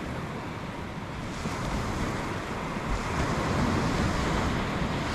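Cold winter wind blowing across a beach, a steady broadband rush mixed with the roar of surf, gusting slightly stronger in the second half with no voices.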